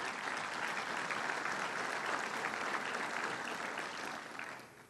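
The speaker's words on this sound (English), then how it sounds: "I'd like to give them a big round of applause." Audience at an economic forecast breakfast gives a sponsor a big, dense round of applause, steady and sustained throughout before tapering off at the end.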